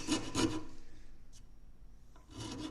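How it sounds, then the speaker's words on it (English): A rounded file rasps across carved wood in a few quick scraping strokes at the start, then goes quiet before a second short burst of rasping near the end, close and fairly soft. "I might just use these rounded files."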